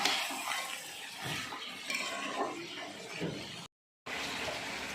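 A spoon scrapes and stirs chicken and potato pieces in a pot, with soft clattering and a faint sizzle in irregular bursts, close up, broken by a brief silent gap near the end.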